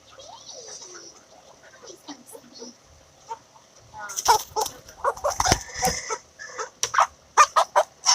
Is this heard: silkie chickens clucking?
yes